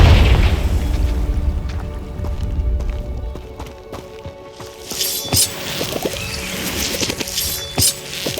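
A Confringo blasting spell explodes in Hogwarts Legacy on Xbox Series S: a deep rumbling boom that fades over a few seconds, followed by scattered sharp cracks and impacts.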